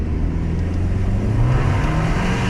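A car engine held in third gear as the accelerator is pressed, a loud, close, continuous low drone with a slowly rising pitch, heard from inside the car with no talk.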